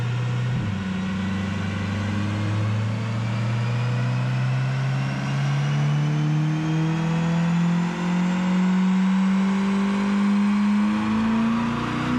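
A Corvette C8 convertible engine with a loud Paragon aftermarket exhaust revs steadily upward, a deep droning growl climbing in pitch over several seconds, close and alone.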